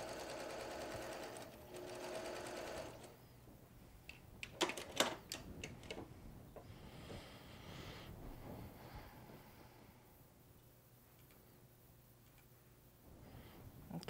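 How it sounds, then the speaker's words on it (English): Domestic sewing machine stitching a quilt block seam for a log cabin goose tracks block, a steady fast mechanical hum and chatter in short runs, fairly quiet, with a few sharp clicks and handling sounds between. "let's go ahead and do our next seam"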